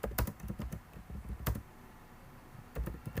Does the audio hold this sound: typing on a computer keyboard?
yes